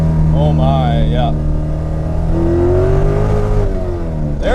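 Loud engine drone of a 550 HP C5 Corvette Z06 accelerating inside the cabin, pitch rising and wavering as the rear wheels slip, with a voice speaking briefly over the engine.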